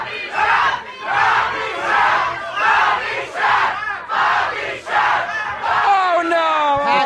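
A live crowd at a St. Patrick's Day broadcast from Connelly's bar shouts and chants loudly in repeated rhythmic bursts, close and dense, with voices rising together in waves.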